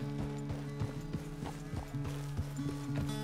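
A horse walks in a western open-world game, its hooves clip-clopping in a steady, close rhythm over a low droning background.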